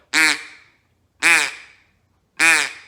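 A single-reed duck call blown with plain straight air gives three evenly spaced, clean quacks, each sharp at the start and fading, loud and close with silence between, and no raspiness.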